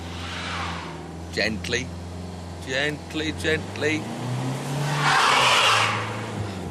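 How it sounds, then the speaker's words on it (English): Front-wheel drive Jaguar X-Type struggling to climb an icy slope: a steady, close engine drone holds throughout, swelling into a louder rushing hiss near the end, with someone talking over it in short bursts. "No matter what I tried, the front-wheel drive X-Type wasn't going up."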